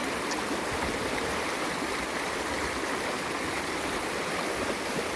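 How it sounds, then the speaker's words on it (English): A flooded creek rushes past close by in a loud, steady, unbroken roar of fast-flowing water, heard alone without talk. "This water is really moving."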